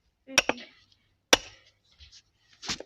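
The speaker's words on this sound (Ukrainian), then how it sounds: "На, Іван, забивай" A few sharp, ringing hammer strikes on a wedge splitting firewood: a quick double hit, a pause, then another blow and a duller knock.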